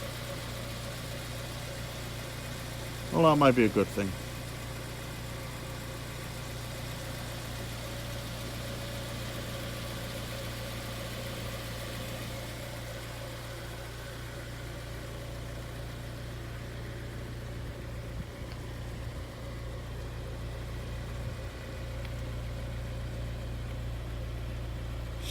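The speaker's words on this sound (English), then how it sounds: "Obviously the engine's just ticking over there nicely." A Honda Integra DC5 car idling steadily nearby, a low continuous hum that runs throughout, with a brief spoken remark near the start.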